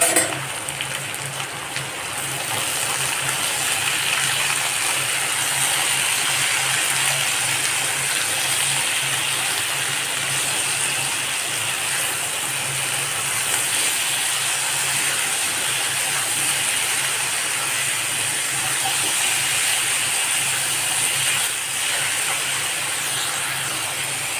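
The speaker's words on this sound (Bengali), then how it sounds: "বাকি তো ভাজা চলছেই আলুটা" Potatoes fry in a pan with a continuous, even sizzling hiss that stays steady and fairly loud for the whole stretch, with no talking over it.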